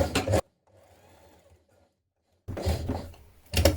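Sewing machine stitching elastic casing on culottes, two loud close bursts of fast mechanical stitching separated by a quiet pause, with a brief final run at the end.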